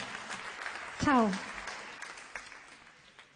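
An audience at an award ceremony claps in a steady, moderately quiet patter while a voice briefly speaks over it.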